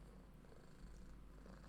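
A cat purring close up, a very faint low continuous rumble that holds steady for a couple of seconds with no talk over it.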